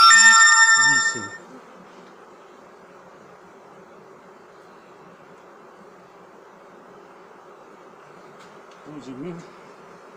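Honey bees buzzing around an apiary hive during a Ukrainian beekeeper's treatment of the colony, a steady close drone of many bees heard mostly alone, with someone speaking briefly at the start and again near the end.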